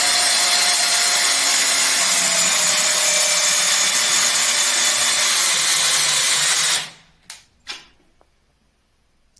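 An Einhell TE-CD 18 Li E cordless drill drives a large screw, a steady loud whirring buzz for several seconds that cuts off abruptly, followed by two brief short bursts as the trigger is tapped.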